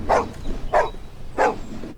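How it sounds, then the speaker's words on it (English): A dog in the 1975 film Jaws barks three times in even succession, sharp and fairly close, with short pauses between barks and no speech over them. "I want to pet that dog, too."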